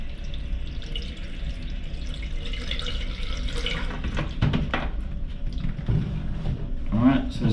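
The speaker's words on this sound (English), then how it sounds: "the idea is to get water in here" Water from a tilted nozzle pours into a caravan or motorhome toilet, a steady close trickle and splash, with some brief voice sounds over it near the end.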